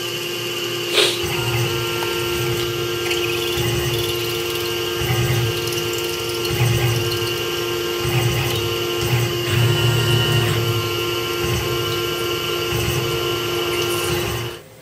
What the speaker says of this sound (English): So right now I'm drilling,